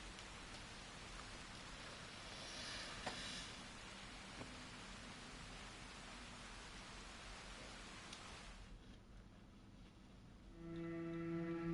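Steady rain falling in the Red Dead Redemption 2 western game, a constant soft hiss with a few scattered drops, heard alone and even throughout before a tonal sound rises near the end.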